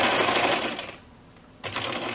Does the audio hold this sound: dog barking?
no